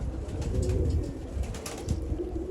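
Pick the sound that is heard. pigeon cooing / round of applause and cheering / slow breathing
pigeon cooing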